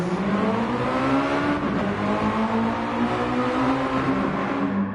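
Race car engines rev and build in pitch at the start of a race at the Red Bull Ring in a racing video game, a loud, steady, droning roar held throughout with no voices.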